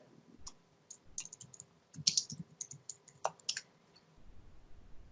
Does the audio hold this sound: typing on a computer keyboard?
yes